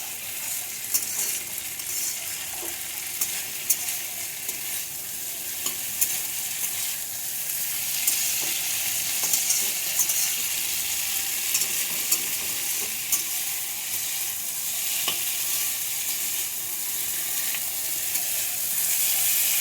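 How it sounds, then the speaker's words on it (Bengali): Potatoes and teasel gourd sautéed with spices in a pan give a loud, steady sizzle with stirring scrapes and clinks running for about twenty seconds, with no talking. "এইভাবে সুন্দর করে মশলার সাথে আলু কাঁকড়গুলো কষিয়ে নিতে হবে"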